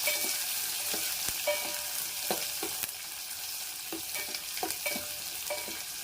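Onions sliced lengthwise fry in hot oil with a steady, close sizzle. Sharp stirring scrapes and clicks break through it every second or so, and no one speaks.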